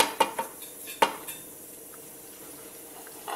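A utensil clinks and scrapes against a pot as coriander leaves are mixed into a curry, giving a few sharp metallic knocks early on, then a quiet stretch with soft stirring.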